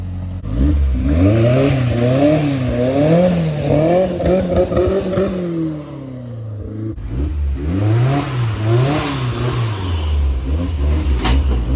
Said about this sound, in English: trying to get the Miata in the garage